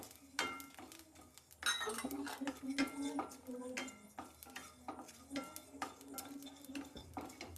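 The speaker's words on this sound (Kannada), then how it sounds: "ಇವಾಗ ಇದಕ್ಕೆ ನಾನು ಕೊತ್ತಂಬರಿ ಕಾಳು ಹಾಕೋತಾ ಇದ್ದೀನಿ." Coriander seeds tipped into a pan already holding cumin and curry leaves for curry leaf chutney, with close spoon stirring, metal clinks against the pan and a soft sizzle of frying throughout; no talking.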